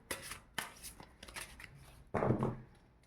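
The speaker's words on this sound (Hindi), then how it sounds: "चलिए एक बार फिर से इसको शफल करते हैं" Tarot cards being shuffled by hand, a series of quick papery riffles and slaps, close and fairly quiet, ending in one longer, louder burst of cards sliding together.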